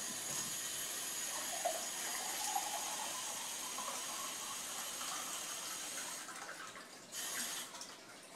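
Tap water pouring into a glass jar, a continuous close gushing rush that shifts slightly in tone and briefly changes near the end.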